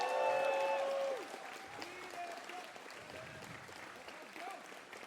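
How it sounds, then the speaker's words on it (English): Faint applause from a crowd in the background after a quarterfinal match, following a brief tonal sound at the start, with a voice talking over it. "please can we get a round of applause for him"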